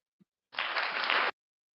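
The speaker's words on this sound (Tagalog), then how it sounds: "Oh, may palakpak din." A short burst of hand clapping lasts under a second in an otherwise quiet space, fairly faint and alone, after a brief tiny tick.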